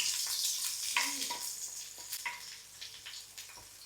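Onion frying in oil for an egg curry, a close, bright sizzle with short stirring scrapes and clatters across a few seconds.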